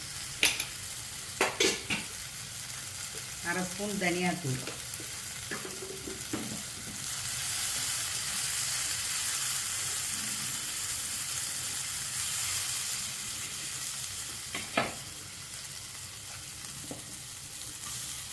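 Capsicum, tomato and spring onion sauté in a pan for a soya masala gravy, giving a steady, loud sizzle. A few stirring scrapes and a brief spoken voice come early on.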